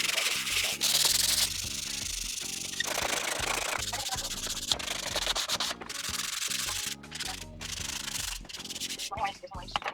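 Sandpaper of 220 grit scrubs a PC case down to bare metal in quick, close back-and-forth strokes, a steady rough scratching with small knocks and shifts in rhythm.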